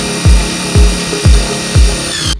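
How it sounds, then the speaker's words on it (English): A power drill drives 1 1/4 inch screws into wood in four quick, even bursts, each a short whirring spin that drops low as the screw seats, close and loud with no talk. "I'm going to be using 1 1/4 inch screws to secure it into the wood."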